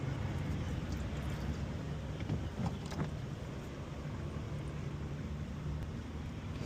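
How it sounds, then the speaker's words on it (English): Strong wind rushes outdoors during an oil change on a Dodge Charger or Challenger R/T, a steady broadband roar buffeting the microphone, with no voice heard. "It's a lot of wind, guys"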